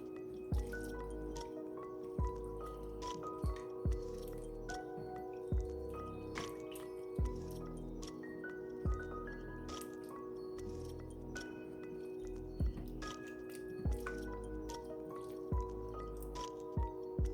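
Seitan being stirred into a simmering vegan beef-style stew, with soft wet squishes and regular spoon taps about once a second over a steady background hum, close and quiet, without talk.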